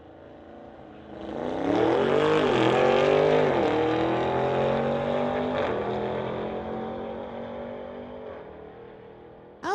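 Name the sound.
drag racing car accelerating down the strip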